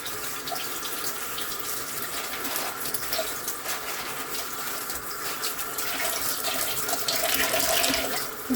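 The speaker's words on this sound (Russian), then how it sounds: "Сейчас я ее ополосну." Tap water runs steadily into a sink while outer onion skins are rinsed under it, a close, continuous splashing stream with slight shifts in tone as the skins move through the flow.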